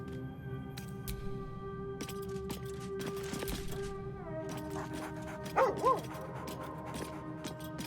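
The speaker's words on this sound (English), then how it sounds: "You spot a name on the dog's collar." A dog barks and yips in Baldur's Gate 3, a couple of short, fairly faint barks set against a low game music bed with tonal drones.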